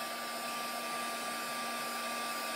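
A hair dryer blows steadily and close by, a continuous airy whoosh with a faint motor whine running evenly throughout and no voices.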